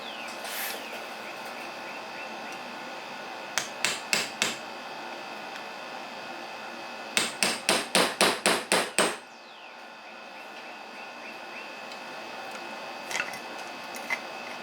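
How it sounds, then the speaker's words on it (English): A hammer gives light metallic taps on a punch driving a roll pin out of a Honda Z50 Mini Trail springer front fork: a short group of taps, then a faster run of about ten, then a few more, close and crisp. "I'm going to give it some light taps with the hammer"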